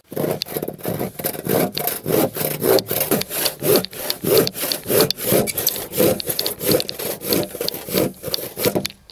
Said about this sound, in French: je vais finir ma dernière coupe